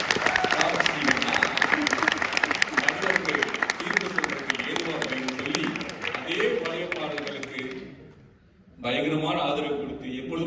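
An audience at a Tamil debate on old film songs claps steadily under a man's speech, the clapping dipping briefly before the talk resumes.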